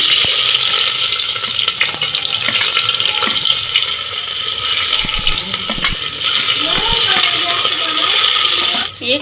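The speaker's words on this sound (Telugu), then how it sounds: "ఇప్పుడు ఆనియన్స్ వేసుకున్నాము" Onions fry in oil with cardamom, cinnamon and bay leaf for an old-style country chicken curry, giving a loud, steady sizzle with occasional clinks and stirring scrapes throughout.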